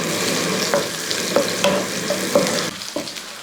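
Crushed unpeeled garlic and cumin frying in hot oil for potato fry, a constant close sizzle broken by repeated spoon-stirring clinks and scrapes at a steady pace.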